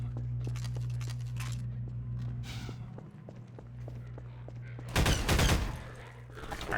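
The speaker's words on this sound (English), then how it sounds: "I'm gonna try burst firing from here." Short bursts of automatic gunfire from a Half-Life 2 firefight, with scattered shots and footsteps early on and a loud, dense volley near the end over steady game ambience.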